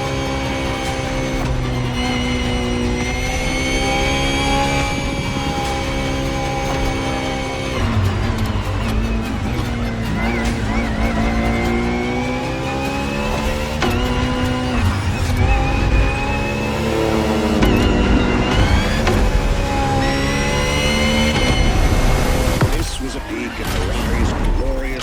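A Ferrari FXX-K engine in a racing game revs steadily and loudly, its rising and falling harmonic pitch sweeping up and down throughout, with a spoken voice-over running underneath.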